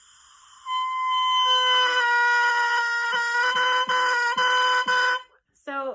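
Double reed made from dark cane crowing during reed finishing, a loud buzzy tonal squawk held for several seconds with brief breaks, then stopping abruptly.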